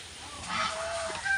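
A goose honks a few times, fairly close, with short nasal calls rising above quiet background noise.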